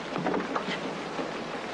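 Steady rain pours down in a continuous hiss during a thunderstorm, with a low rumble underneath and no voices.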